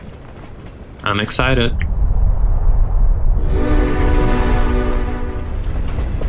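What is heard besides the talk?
flying train with horn in a video game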